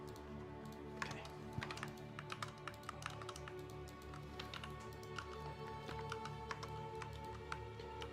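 Steady clatter of typing on a computer keyboard, a dense run of quick key taps throughout, fairly close, over a low background hum with no talking.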